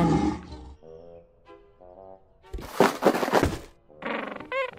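Cartoon lion roaring in a children's preschool animal game, with a heavy thunk, then a loud drawn-out growling roar amid bright game effects, close and alone.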